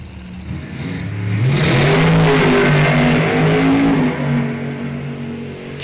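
A supercharged big block Chevy drag car accelerates down the strip, a loud, swelling engine roar that rises in pitch as it pulls away, then fades slightly toward the end.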